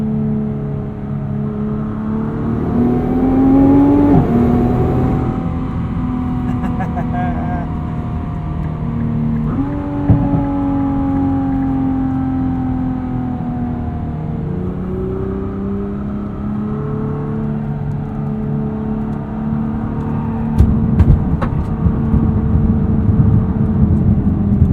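A 2021 Nissan GT-R Premium accelerating hard up an entrance ramp in R mode, its engine note rising steadily through the gears with distinct shift drops, loud and close inside the cabin, a voice speaking briefly over it.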